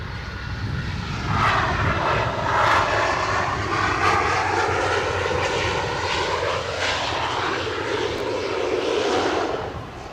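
A Delta airliner moves at Edinburgh Airport, its jet engines producing a steady, loud roar with rising and falling whine that holds throughout.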